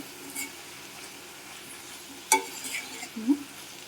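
Curry leaves fry with broad beans in a pan, giving a low steady sizzle broken by a sharp metal clink and a few scraping stirs, close and fairly quiet.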